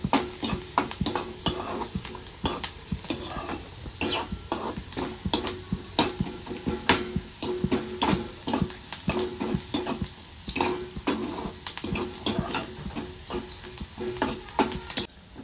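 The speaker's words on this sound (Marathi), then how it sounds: "त्यासाठी सारखं आपल्याला असं मिक्स करत राहायचं, हलवत राहायचं आहे ना।" Onion frying in oil in a pan, stirred steadily throughout: a continuous close sizzle broken by frequent scraping strokes of the spoon against the pan, with no talking.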